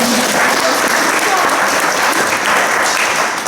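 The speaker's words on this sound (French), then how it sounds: "On peut les applaudir un peu." Applause from family and guests at a 50th birthday party celebrating a couple, a dense, steady wash of clapping filling the whole stretch at close range.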